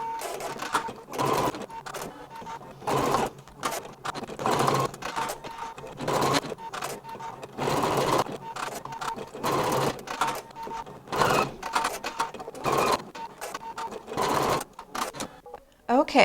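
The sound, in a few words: sewing machine sewing placement stitches for leaves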